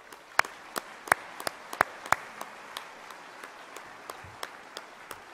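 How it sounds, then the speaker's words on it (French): Sparse, scattered claps from a small audience at an awards ceremony in a town hall setting, sharp isolated hand claps ringing out one by one rather than a full ovation, fairly quiet and without talk. "On peut l'applaudir."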